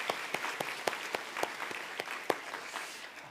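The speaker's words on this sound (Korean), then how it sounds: "큰 박수로 환영해 주시기를 바랍니다" A church congregation claps in welcome for an engaged couple, with sharp, rhythmic claps in a fairly steady beat over a softer bed of applause, slightly distant and with no speech.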